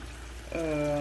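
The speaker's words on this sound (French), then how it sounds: "Nous allons ajouter un peu d'eau." A little water is poured into a cooking pot of chicken yassa over lowered heat, starting abruptly halfway through as a steady, close, fairly loud stream with a ringing tonal hum after a quiet start.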